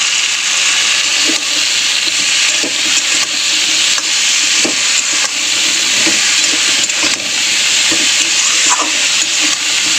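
Mustard paste, chili and spices frying in a pan, a steady loud sizzle and hiss with occasional stirring scrapes throughout, close up and without speech.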